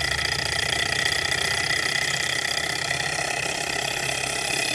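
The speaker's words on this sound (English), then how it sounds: "that is heating up the Stirling engine, which is then able to convert that heat into motion" Steady running hum of a heat-powered Stirling engine driving a generator, a continuous close mechanical drone with even vibration and no talking.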